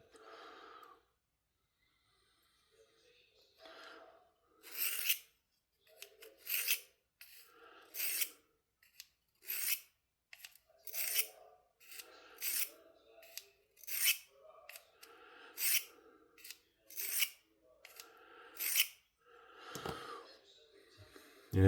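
A knife edge is drawn back and forth on a Work Sharp folding field sharpener to refine the burr, producing about a dozen crisp, evenly spaced rasping strokes, close and alone, with soft breathing between them.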